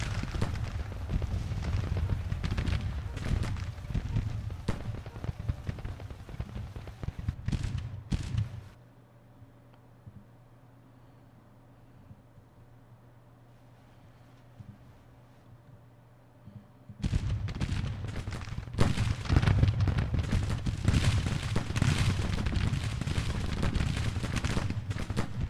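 Dense battlefield gunfire and booming artillery in Grand Tactician: The Civil War, a loud continuous roar that drops to a quiet lull midway before the barrage resumes.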